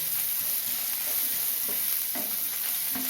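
Chopped tomato sautéing in a pan for curry leaf, pepper and garlic kuzhambu, a steady close sizzle with a few soft stirring scrapes and no talk.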